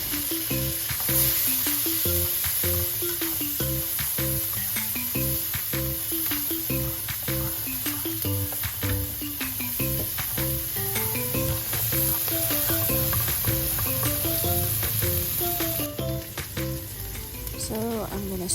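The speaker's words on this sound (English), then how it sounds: "Stir fry the onion and the red chili." Onion and red chili stir-fried in butter, a loud continuous sizzle with constant scraping and tossing from a spatula against the pan, under background music.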